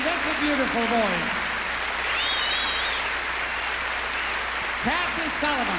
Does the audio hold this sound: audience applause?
yes